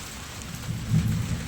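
Heavy rain pours during a windstorm as a dense, steady hiss, with a low thunder rumble swelling underneath toward the end of the short stretch.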